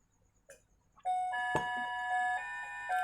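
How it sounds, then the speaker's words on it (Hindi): A wristwatch's hourly alarm chimes in a steady electronic beeping tone that starts about a second in and keeps sounding, clear and close, with no talk over it. "मेरी वॉच है हर घंटे अलार्म देती रहती है"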